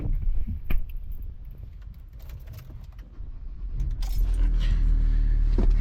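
Keys jangle in short metallic bursts outdoors in the rain, followed by a car engine starting and settling into a steady, close idle rumble.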